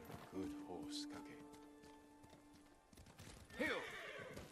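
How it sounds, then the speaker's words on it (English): Horse hooves clop and a horse whinnies in the video game Ghost of Tsushima, with a clear neigh near the start and another burst later, set against game music and ambience. "Good horse, Kage"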